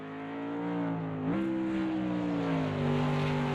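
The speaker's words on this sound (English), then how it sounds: "It does sound like a throaty AMG" Mercedes-AMG race car in the Automobilista 2 racing game, its throaty, gritty engine holding a loud sustained drone with a quick gear-shift dip and steady climbing revs, no talk.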